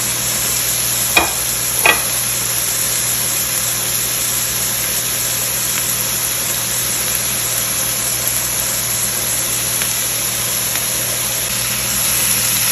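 Bell peppers stir-frying in a pan for restaurant-style chicken egg fried rice, a steady broad sizzle with two brief clinks of a spoon near the start, no voices.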